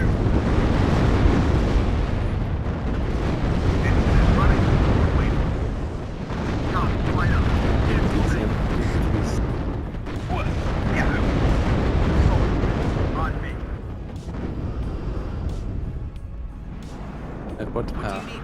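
Artillery fire and explosions in the war strategy game WARNO, a dense, continuous rumble of booms and blasts rolling on loudly for many seconds, with voices mixed into the din.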